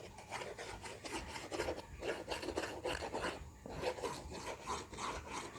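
Glue brushed onto cardboard pieces for a box organiser, a steady close rasping and rubbing that keeps going in short repeated strokes, with no talk.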